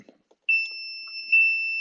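A continuity tester probing a UART pin on a Linksys WRT54G router circuit board lets out a steady, high-pitched electronic beep that sounds alone and holds for over a second, briefly swelling.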